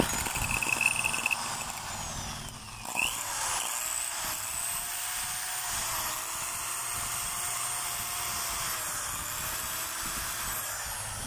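DeWalt DWD022 3/8-inch hammer drill, a repaired unit, running at a slow speed with a steady near motor whine and hum after a brief handling noise at the start, and no talking.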